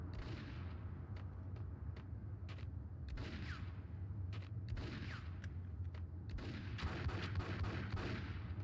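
Gunfire in the action video game Max Payne: sharp, irregular shots ring out one after another over a low rumbling background, moderately quiet overall, with no voices.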